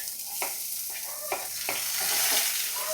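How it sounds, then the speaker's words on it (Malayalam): Onion fries in a pan, a bright continuous sizzle with rhythmic stirring scrapes every half second or so, close and fairly loud, no talking. "അപ്പോൾ അടുത്ത നമുക്ക് സവാള ഇട്ട് കൊടുക്കാം കേട്ടോ."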